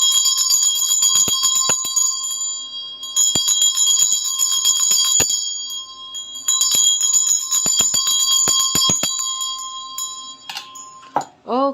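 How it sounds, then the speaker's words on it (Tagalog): A Tibetan bell rung to cleanse a space gives bright, sustained metallic tones with several clusters of quick repeated strikes, loud and close, ringing out before a brief shuffle at the end. "i-ring ko lang yung aking Tibetan bell to cleanse the space"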